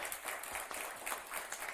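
A live radio-show audience at a string and jug band performance claps in a dense, even wash of applause, without a break, moderately loud and a little distant.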